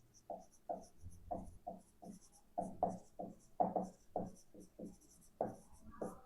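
Chalk taps and strokes across a classroom board in a quick rhythmic series of short scratchy marks, close and fairly faint, with no talking.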